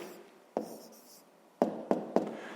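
A pen writes an answer on paper in a maths lesson, giving a few short, close scratchy strokes and taps in a quiet room.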